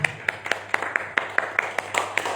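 Sparse, evenly spaced claps from a small audience at an Islamic religious talk, about a dozen sharp hits in a steady rhythm over a low hum, fairly near and moderately loud.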